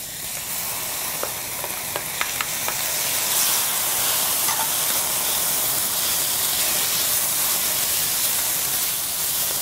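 Caramelized, tender onions sizzle and hiss steadily in a hot pan as tomatoes go in for healthy Southern shrimp and grits, with a few faint clinks early on and a constant frying crackle throughout.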